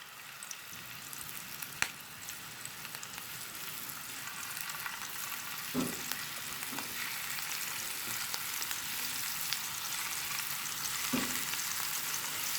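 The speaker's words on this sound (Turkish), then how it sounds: "Şimdi köftelerimi kızartmaya başlayacağım" Constant hiss and crackle of meatballs frying in oil, with occasional light knocks and taps of utensils against the pan.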